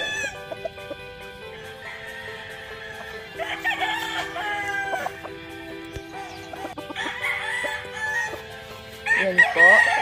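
Yellow-legged hatch gamefowl roosters on a farm crowing in several drawn-out calls, with scattered clucking and other birds around them, fairly close and loud against steady background noise.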